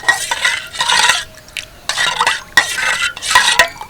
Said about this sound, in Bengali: এবার ভালো করে মিশিয়ে নেব সব কিছু